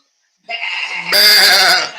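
A goat bleats loudly and close by, one sustained wavering call that swells louder partway through, heard alone at a barbecue grilling and smoking setting.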